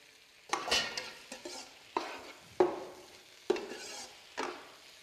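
Ingredients for ji li beng, chicken and shrimp, poured into a hot wok and stir-fried: about six sharp tossing strokes, each a burst of sizzle fading before the next, close and alone.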